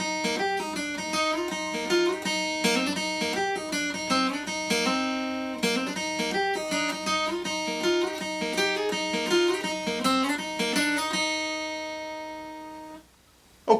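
An electric guitar plays the intro riff of a song, quick repeated notes, steady and clear, ending on a sustained ringing tone before stopping.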